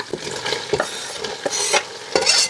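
Chopped tomatoes and green chillies fry in a pan with a steady sizzle, broken by repeated scraping stirs of a spoon, close and alone.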